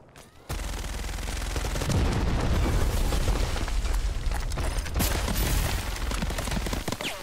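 Sustained automatic gunfire in the video game Call of Duty DMZ, a dense rattling fusillade of rapid shots that starts abruptly and continues loudly for several seconds without talk.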